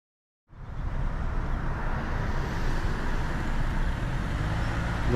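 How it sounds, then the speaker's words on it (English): Road traffic in a residential neighbourhood, a constant low rumble of passing cars and heavier vehicles that starts abruptly and carries on steadily at moderate level. "A lot of cars, a lot of traffic."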